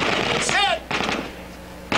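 Sharp gunshots at a police-style firearms qualification drill, with shooters aiming 25 rounds at a target's chest. A few loud, close bursts come in quick succession, with a short whistling tone and nearby voices mixed in.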